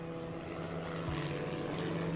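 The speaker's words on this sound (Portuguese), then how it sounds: "Um avião em chamas." A burning propeller airplane drones steadily at moderate distance, its engine holding a low, even hum that shifts slightly in pitch partway through, with no voices.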